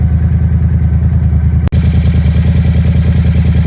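A 2021 Yamaha MT-07 motorcycle engine idles steadily with a low, even rumble and rapid pulsing throb, briefly cutting out for an instant midway.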